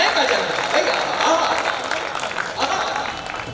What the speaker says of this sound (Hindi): पूरा सदन जोरदार तालियां बजाए।